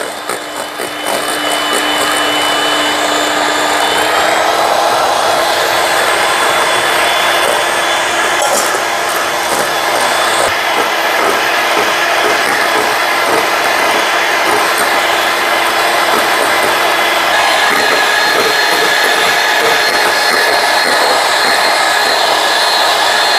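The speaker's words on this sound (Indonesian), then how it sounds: "Untuk kuning telurnya ini kita mixer sampai dia kental berjejak ya." Electric mixer whirs steadily, beating egg yolks for a pandan sponge cake, a loud continuous buzzing drone close by with slight shifts in pitch and no pauses or talking.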